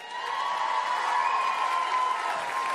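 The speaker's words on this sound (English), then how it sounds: "if you applaud the dress loud enough" Audience applause and cheering fill a pageant grand final hall in sustained, dense clapping that stays loud and steady throughout, with no talk over it.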